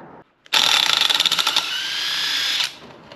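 A rebuilt car alternator with its pulley fitted is spun up, giving a sudden whirring burst with a fast ratcheting flutter that settles into a steady high whine for about two seconds before cutting off.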